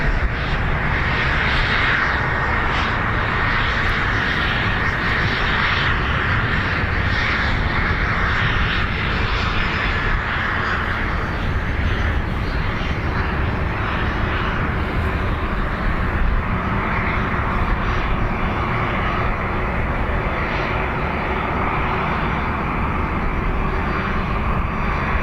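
A Cessna Citation jet takes off from Dublin Airport, its engines giving a steady, loud roar that holds throughout with only slight shifts in tone.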